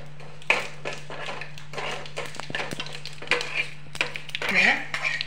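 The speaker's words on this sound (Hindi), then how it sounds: "अब मैं इसे तड़के को भी तड़के में भी डालती हूँ।" Curry leaves crackle and sizzle as they drop into hot oil for a South Indian tadka, with stirring and light clinks of a pan through a steady hum; loud sputtering bursts come and go over about five seconds.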